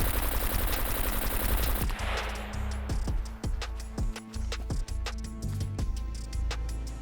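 Armor-piercing black tip rounds fired at turrets in the SCUM video game: a steady burst of automatic gunfire for about two seconds, then a series of separate loud shots with short gaps, close and dominant throughout.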